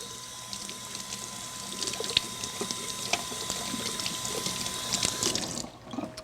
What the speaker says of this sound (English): we're just going to wash this off again in the sink